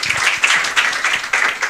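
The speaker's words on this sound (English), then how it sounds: "A lot of applause for our panelists" Audience applause for the panelists at an adolescent mental health summit breakout session, a dense wash of clapping filling the room steadily for a couple of seconds.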